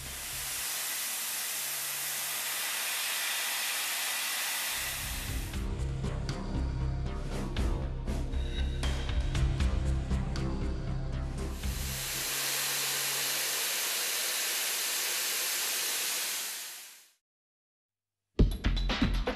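Milling chuck driving a 0.787-inch cutter through pre-hardened 33 HRC steel at full 0.787-inch axial depth, a loud hissing cut with heavy low grinding chatter in the middle section, then abrupt silence and a brief restart.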